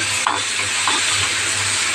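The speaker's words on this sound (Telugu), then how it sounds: "వాటర్ పోయొద్దు, ఈ నూనెలోనే మగ్గాలి." Loud continuous sizzling and hissing of garlic chili paste frying in hot oil with no water, with a couple of stirring scrapes near the start.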